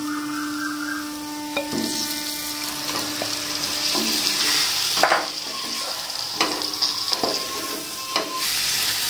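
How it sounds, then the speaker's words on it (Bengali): Marinated chicken goes into a thick masala gravy for restaurant-style chicken masala, bringing up a loud, close sizzle and frying crackle. Scraping stirs and clacks of a spoon against the pan follow through the rest. "দেখুন গ্রেভিটা আমার একদম মাখা মাখা হয়ে গেছে এবার এটার মধ্যে আমি ম্যারিনেট করা চিকেনটা দিয়ে দেবো"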